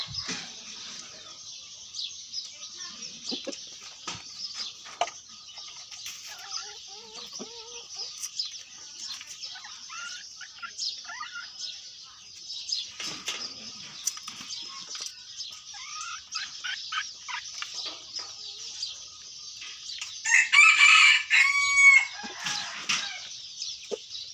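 A red junglefowl rooster crows once near the end, loud and close, over a steady bed of chirping birds and insects outdoors.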